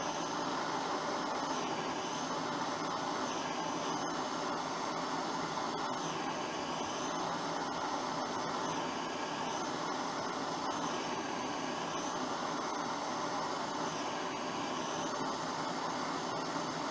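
A Dremel rotary tool cuts a slot into an aluminium engine part from a Honda CB125S, giving a steady high-pitched whine that runs unbroken and close-up, with slight pitch dips as the bit loads against the metal.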